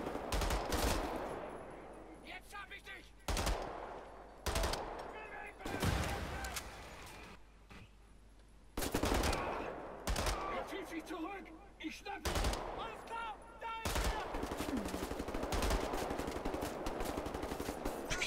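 Gunfire in the shooter Wolfenstein: The New Order: repeated bursts of loud, close shots separated by brief lulls, with someone talking over parts of the action.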